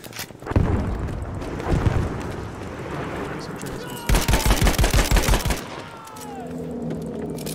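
Rapid gunfire from the Battlefield 5 video game, first a mixed din of shots and game noise, then a loud, dense burst of automatic fire lasting over a second, followed by quieter game ambience.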